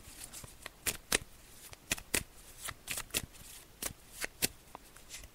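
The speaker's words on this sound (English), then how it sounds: "so I'm just going to shuffle the cards." A deck of psychic reading cards is shuffled in a steady run of crisp riffling snaps, about a dozen sharp bursts over a soft papery background, close and alone with no talk.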